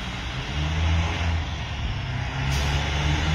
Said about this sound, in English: So that truck, there is a truck coming.